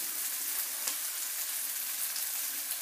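Steady, dense sizzling of sausages frying in coconut oil in a frying pan, close and continuous with faint crackles and no voices.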